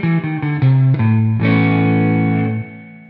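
Electric guitar through a Seymour Duncan P-Rails humbucker pickup with an effects unit, several slightly distorted notes moving across the neck, then a final chord left ringing and fading, played alone and close.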